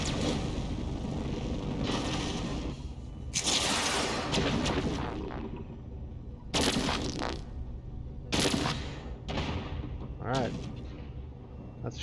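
Missiles striking enemy ships during a space battle in Endless Space 2, with repeated sharp blasts and booming impacts breaking through steady talk.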